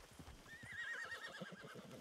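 A video-game horse gives a clear, wavering whinny lasting about a second over a steady patter of hooves, moderately close and not loud, with no talking.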